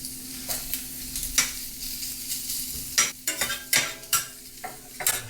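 Rice stir-fried in a pan with chicken, a steady sizzle under repeated scraping and tossing strokes of a utensil against the pan, close and fairly loud, with no talking.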